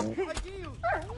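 A dog barks and whimpers in the Kingdom Come: Deliverance video game, a few short yips and a whiny bark heard close and loud over a steady game background.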